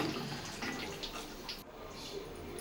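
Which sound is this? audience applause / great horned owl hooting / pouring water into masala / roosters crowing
pouring water into masala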